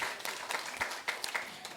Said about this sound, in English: let's give a resounding round of applause to them